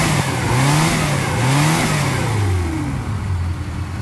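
The 1000cc engine of a white 1991 Suzuki Katana 4x4 with a ported and polished head is revved in repeated rising and falling pulls, close and loud, then drops back toward idle.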